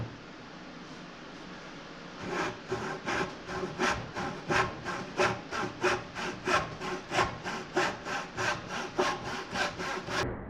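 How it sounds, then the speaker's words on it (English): A hand saw that may need sharpening cuts through aspen wood, starting after a short pause and then rasping in about twenty even, rhythmic back-and-forth strokes, close and clear. "My saw might need a sharpening job."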